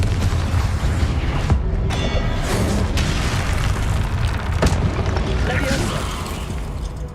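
A Confringo fire spell explodes during combat in the video game Hogwarts Legacy, a loud booming burst that sits among dense, continuous game effects, with several sharp impacts and crackling bursts following close together.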